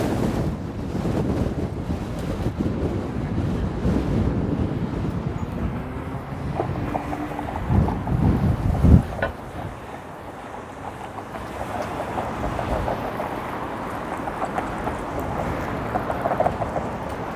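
Strong wind buffets the microphone of a cyclist riding against it along King Street in Toronto on a March day. A loud, steady roar persists throughout, with gusts swelling and easing.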